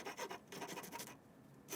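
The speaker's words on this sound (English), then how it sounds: "I'm going to come in with a rasp here, do some of the bulk to get that smooth" A wood rasp smooths the rough edge of a jigsaw cut in wood, giving a series of quick, close scraping strokes in rhythm, then a pause and one final stroke.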